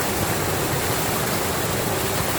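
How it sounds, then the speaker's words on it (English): Running water rushes steadily past an old noria water wheel in Benijofar, Spain, a dense, loud, unbroken wash of sound with no pauses. "That's one very upset water wheel today."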